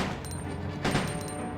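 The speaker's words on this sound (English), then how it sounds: "Did I shoot too early?" In Resident Evil 2 with an HD texture mod, during Leon's A scenario, one sharp gunshot bursts out over steady game ambience about midway through.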